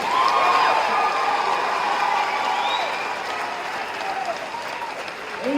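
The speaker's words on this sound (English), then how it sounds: "One more round of applause for all 200 or so." A large high school crowd applauds for the class of 2026, a steady dense wash of clapping that holds at full strength before easing slightly toward the end.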